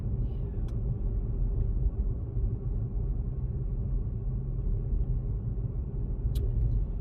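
A Honda car drives along a rough, bad back road, giving a continuous loud low rumble of tyres and engine. Occasional brief clicks and knocks come through the steady road noise.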